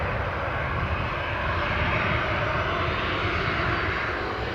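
An Air France jet arriving from Paris Charles de Gaulle at Newcastle Airport gives a steady, broad engine roar that holds at a constant loud level for the whole stretch, with no talk over it.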